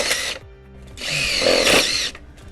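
A power drill drives screws into the steel frame of an Absco single compact garage shed: a short whirring burst, a pause, then a longer, louder high-pitched whine that rises and then cuts off, close by.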